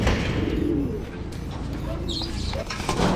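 Hungry racing pigeons coo low and continuously at feeding time in a loft, with occasional faint chirps over a dense, close rumble of wings and movement.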